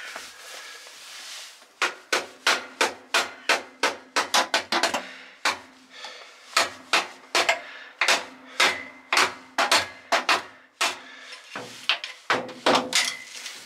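Hammer blows struck on the starter ring gear of a stranded Robur truck, a run of sharp metallic knocks in uneven bursts, close and loud, with brief pauses between groups and no talk.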